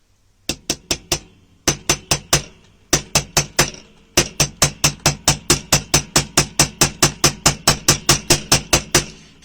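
A stamping hammer strikes a memory wire loop in sharp, ringing metallic blows, first in small groups of three or four, then in a long, steady run of evenly spaced hits, loud and close, with no talking.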